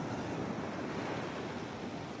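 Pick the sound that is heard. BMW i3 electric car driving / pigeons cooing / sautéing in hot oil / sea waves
sea waves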